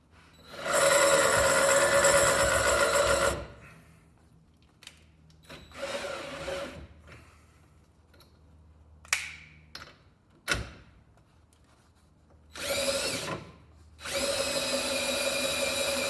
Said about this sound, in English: On the high setting of my drill, I'm going to redo this one.